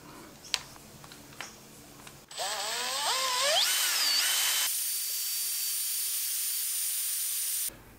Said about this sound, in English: I'm going to be using the fancy drill stirrer.